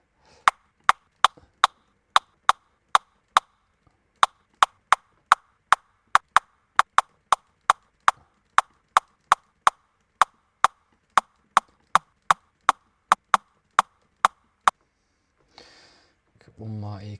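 A synthesized rimshot built in Serum 2 fires in a steady rhythm, about thirty sharp, dry wooden clicks with a short body tone. A brief low swell follows at the end.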